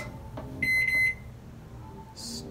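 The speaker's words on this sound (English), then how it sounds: "Put this in the microwave for like 5 minutes." A microwave oven being set and started gives a pair of quick high electronic keypad beeps close together, then a faint hum and soft clicks in a quiet room.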